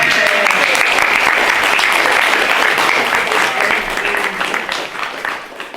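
Loud, sustained applause from a debate audience in a hall, dense clapping that gradually thins and fades toward the end.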